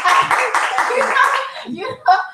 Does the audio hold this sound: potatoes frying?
no